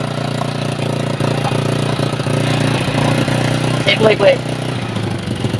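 A Rusi TC125 motorcycle engine, just brought back to life after a carburetor cleaning, idles with a steady low throb, close by, while someone talks briefly over it near the end.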